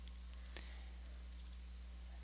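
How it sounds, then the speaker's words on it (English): Computer mouse double-clicked on a sketch while drafting a cabriole leg, two quick faint clicks close together over a steady low hum, followed by a few soft ticks. "Let's just double click on this sketch here."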